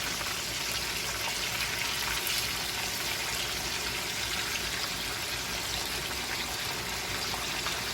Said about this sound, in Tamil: மீன் பொரியல் வந்து பொரிச்சிருக்கும் கொஞ்சம் திருப்பி விட போகிறோம்